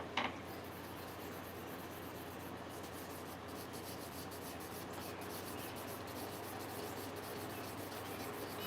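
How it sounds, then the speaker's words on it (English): Steady, continuous rubbing and scraping as a tobacco pipe is sanded by hand, an even abrasive texture running without pause at close range and low volume, no voices. "Just sanding on a pipe."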